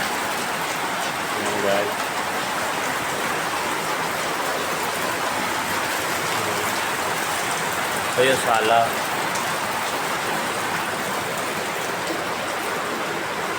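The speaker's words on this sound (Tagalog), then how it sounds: "Ang lakas ng ulan dito guys." Heavy rain pours steadily on a house, a dense continuous hiss of water on the roof and surfaces, with someone talking briefly over it.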